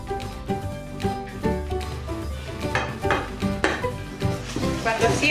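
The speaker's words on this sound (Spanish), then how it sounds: "Y con esto batimos, con el batidor de mano nomás" A hand whisk beats sugar and yogurt batter in a bowl, making rapid rhythmic clinking and sloshing strokes close by that come in uneven bursts, with no talk.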